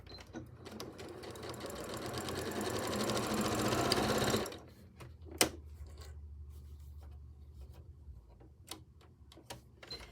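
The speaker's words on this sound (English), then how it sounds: "I'm going to stitch that scant 1/4 inch on each side of this line." A sewing machine stitches quilt pieces with a scant quarter-inch seam, humming fast and close for about four seconds, then stopping and leaving a few quiet clicks and fabric handling sounds.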